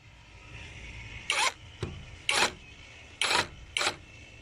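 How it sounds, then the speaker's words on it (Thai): A drill with a 5 mm bit boring into a concrete block wall, four short bursts of grinding with brief pauses between, close and distinct. "อันนี้เดี๋ยวจะเจาะด้วยดอก 5 มิลนะครับ"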